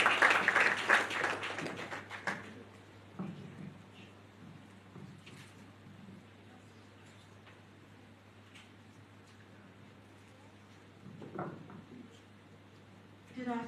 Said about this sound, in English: Please join me in giving a warm round of applause to Mrs. Titilayo Oshodi as she comes on stage